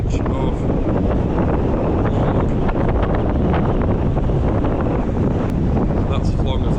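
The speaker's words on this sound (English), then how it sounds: "The wind does ease a little bit and you can hear a bit more of the audio soon" Strong, steady wind roars across an open storm-lashed beach at Trearddur Bay, Anglesey, buffeting the microphone continuously with a dense rushing blast and no letup.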